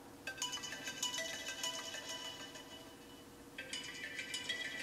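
An iPhone 7 ringtone plays after the phone spent 24 hours frozen in Sprite, a bright repeating melodic chime that sounds slightly dull, with a second layer of high tones joining near the end.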